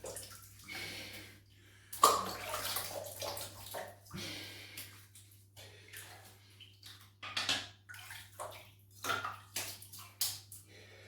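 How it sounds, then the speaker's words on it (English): Water splashes in bursts as hands wet the face at a basin before a safety-razor shave, irregular close sloshes and trickles separated by brief quiet gaps, with no speech. "Okay, let's wet the face."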